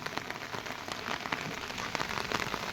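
Rain falls on open farmland, a soft, fairly quiet patter with scattered sharper drops tapping nearby, and no voices.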